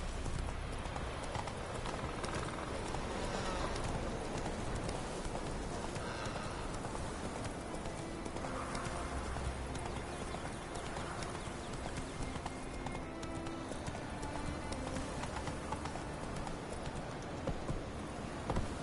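Horse galloping in the video game Witcher 3, steady clip-clop of hooves running continuously under a dense wash of game ambience and music.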